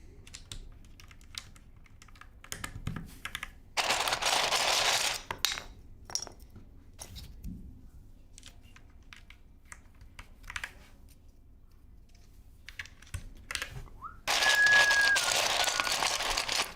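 Typing on a Foraz Signature Hope custom mechanical keyboard, heard as clusters of close, sharp key clacks with short pauses between bursts and occasional louder bottom-out thocks.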